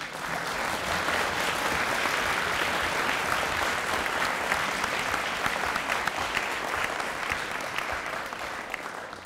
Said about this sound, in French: sous les applaudissements de la salle